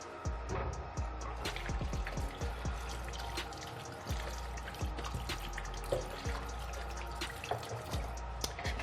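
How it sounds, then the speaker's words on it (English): Tap water runs and splashes steadily over hands being washed in a sink, with irregular drips and trickles, close and fairly quiet, no talking. "right now I'm going to be washing my hands before I go into the preparations proper"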